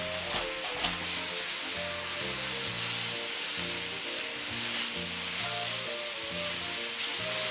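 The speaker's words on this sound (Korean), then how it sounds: "이렇게 해서 볶아보겠습니다" Mushrooms seasoned with pepper stir-fry in a hot pan for japchae, giving a loud, steady sizzle and crackle throughout, with the rhythmic scrape and stir of a utensil moving through the food; no voices.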